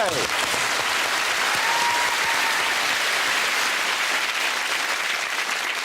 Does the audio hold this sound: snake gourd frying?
no